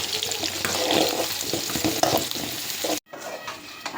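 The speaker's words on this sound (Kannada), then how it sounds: "ನಾ ಇಲ್ಲಿ ಅನ್ನ ಬಗಾರ್ ಹಾಕ್ಲತ್ತೀನಿ." Cooked rice being tempered in hot oil with chili, onion and chutney, a steady sizzle with stirring scrapes that stops abruptly, then quieter sizzling continues.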